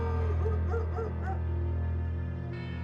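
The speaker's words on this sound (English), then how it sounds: "Oh, now I can hear the dog." A dog barks and yips several times in the video game Full Throttle Remastered, moderately loud over a steady game soundtrack hum, with a short run of barks early on and quiet afterward.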